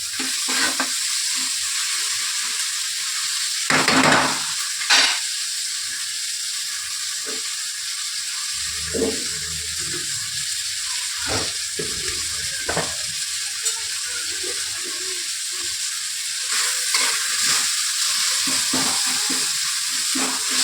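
Red lentil chachchari stir-frying in a pan: a continuous close sizzle with irregular scrapes and knocks of a spatula stirring throughout, no voices.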